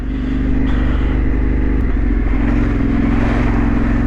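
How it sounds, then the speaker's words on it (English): Off-road motorcycles coming down a rough trail, their engines giving a loud, steady, close drone with a low rumbling pulse and no talking. "Couple of other bikes coming down, always good to see."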